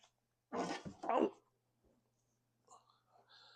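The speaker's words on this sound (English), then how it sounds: "Sorry, just coughed." A single short, breathy cough close by, followed by faint rustling and quiet sounds.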